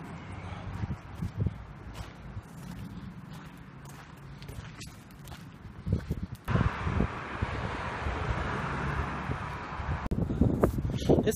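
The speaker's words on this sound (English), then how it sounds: "It's cold and windy out here." Steady wind buffets the microphone outdoors, a continuous low roar with rustling and occasional thumps, growing harsher and louder in the second half.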